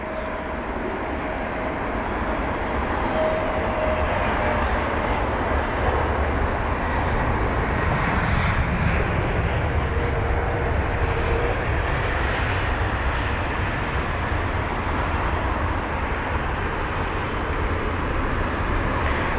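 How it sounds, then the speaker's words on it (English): An Airbus A321neo jet takes off on runway 27 right at London Heathrow, its engines a loud, continuous broadband roar that holds steady across the whole stretch without any voices. "From Nice, the Airbus A321neo,"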